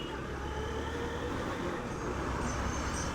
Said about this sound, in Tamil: இதே ஒரு லாரி நமக்கு பின்னாடி வேறு ஒன்று வருதுங்க